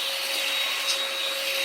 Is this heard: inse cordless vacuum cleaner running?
yes